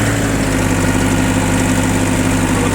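A Yanmar F20D Japanese tractor engine idles close by, a loud, steady, even diesel rumble that continues without change and with no talk over it.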